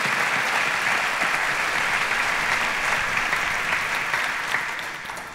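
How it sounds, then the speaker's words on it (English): Steady, dense audience applause at a televised quiz show grand finale, many hands clapping at once, sustained throughout and tapering slightly near the end. "A round of applause to Ernest, please."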